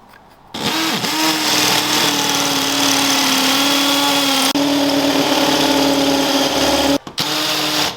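A power drill runs continuously for about six seconds while boring anchor points for a wall bracket during a home gym build, loud and close with a steady whine, stopping briefly near the end before restarting.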